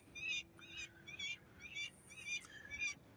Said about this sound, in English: Some seagulls welcoming me back to Port Huron.